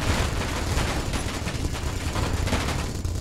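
Ship-mounted guns on a large fighter craft in Space Engineers, firing a continuous, heavy stream of rapid shots during a strafing pass, loud and close with a rumbling undertone.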